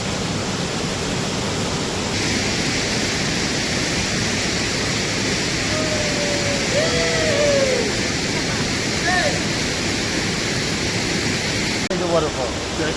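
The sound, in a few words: waterfall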